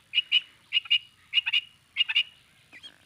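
A quail calls in quick repeated pairs of sharp, high chirps, close and clear, about four bursts in a few seconds with nothing else heard.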